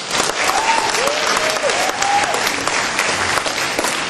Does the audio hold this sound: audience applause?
yes